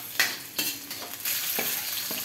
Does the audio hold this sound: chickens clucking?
no